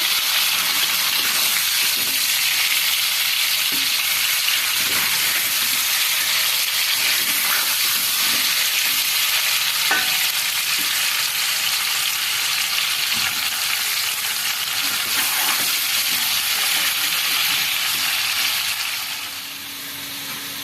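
Diced potatoes frying in a pan of oil while being stirred, a steady close sizzle with scattered scraping knocks and small pops, easing slightly near the end, without any speech.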